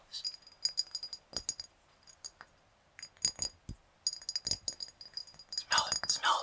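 Glass objects clinking and rattling close up in bursts of bright, delicate chinks separated by short pauses, with a soft voice speaking between them.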